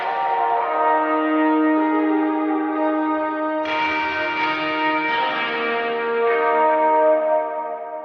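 Electric, steel and slide guitars are resampled and run through a sweeping filter effect, giving sustained, ringing, bell-like tones with heavy reverb that shift in pitch and brightness partway through, played alone.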